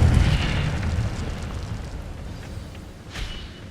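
An Incendio fire spell cast in Hogwarts Legacy, a loud fiery burst at the start that decays into a rumbling, crackling roar, with a sharp pop near the end.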